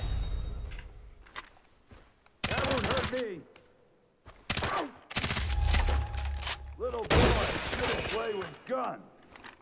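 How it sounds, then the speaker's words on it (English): Gunfire in Far Cry 3 with a silenced weapon: loud bursts of rapid shots come in several clusters with short gaps between them, under occasional talk. "fire out this gun to show you more of this gun"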